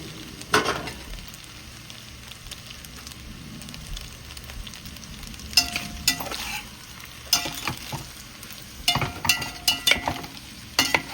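Spinach stirred into a pan of warm tricolor rotini pasta gives soft, steady frying crackle throughout, with louder scraping clatters of a utensil against the pan in bursts toward the end.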